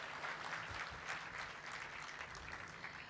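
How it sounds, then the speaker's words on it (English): Steady, dense audience applause fills a large hall at an opening ceremony, even and continuous but fairly faint and distant throughout. "I think you need to give me an applause for it all the same"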